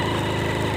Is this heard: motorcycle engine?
yes